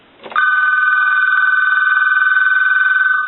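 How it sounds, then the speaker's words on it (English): Piezo buzzer ringer of an AT&T 1509 telephone answering machine, a loud steady warbling electronic trill lasting about three seconds after a short click, with no talking. "Okay, it has a regular manual piezo buzzer."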